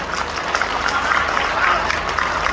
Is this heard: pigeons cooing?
no